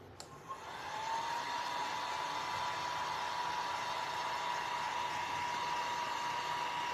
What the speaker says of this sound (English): I'm gonna turn the dryer on